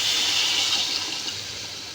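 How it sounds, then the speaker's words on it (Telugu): Steady rush of water poured into a pot of egg and drumstick rasam for about two seconds, a broad hissing splash that stays close and fairly loud before easing slightly at the end. "ఇంకొంచెం వాటర్ పోస్తాను"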